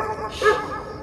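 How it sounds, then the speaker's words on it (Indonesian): A dog gives a short, close, tonal bark-howl in a horror story sound effect, rising over a dim background hum with no voices. "kami berempat dikagetkan oleh suara anjing yang berada di dalam"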